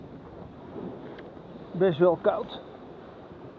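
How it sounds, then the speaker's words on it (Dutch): Cold, gusty wind rushes steadily over a sailboat on the IJsselmeer during a passage from Medemblik toward Hindeloopen, a constant broad hiss with a person speaking briefly over it. "En de wind vlaagt qua sterkte en qua richting."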